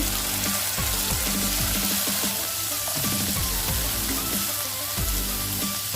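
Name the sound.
onion and tomato frying with spices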